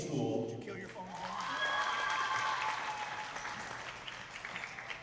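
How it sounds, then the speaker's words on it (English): A basketball crowd at a charter state semifinal applauds the Davinci School boys team from El Paso, a loud sustained wash of clapping and cheering that swells then gradually thins out. "let's give another big round of applause for the Central Texas Regional Champion"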